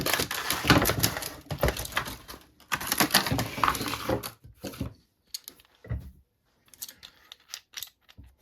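Scissors snip and crunch through tough plastic clamshell packaging around a Pittsburgh 9-inch drill press locking clamp. Dense, close crackling and cutting comes in bursts, then trails off into scattered rustles and clicks.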